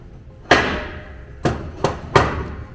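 A board on a pontoon deck is unclamped and flipped over, giving four sharp knocks, one alone and then three close together, each fading quickly, with quiet between them.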